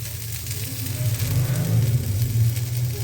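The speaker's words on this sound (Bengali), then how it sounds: "ফুলকপিগুলো ভাজা হয়ে গেছে" Cauliflower florets fry in hot oil in a pan for a Bengali fish curry, giving a steady close sizzle with a low bubbling rumble underneath, no voices.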